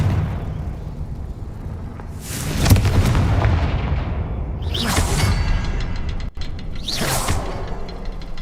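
A Confringo blasting spell cast in Hogwarts Legacy, heard as three loud whooshing bursts with booming impacts a couple of seconds apart over a steady low rumble of game ambience.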